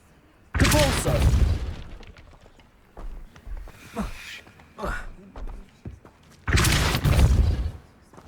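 Depulso spell cast in Hogwarts Legacy, two loud broadband blasts of about a second each near the start and end, with smaller thuds and bursts between them.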